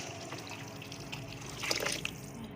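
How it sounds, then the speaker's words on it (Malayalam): Boiling water pours into a pot of vegetable pulao with a soft, continuous trickle that swells briefly near the end, heard close and fairly quiet with no talk. "ഇനി ഇതിലേക്ക് ഞാൻ തിളച്ച വെള്ളമാണ് ഒഴിച്ചു കൊടുക്കുന്നത്."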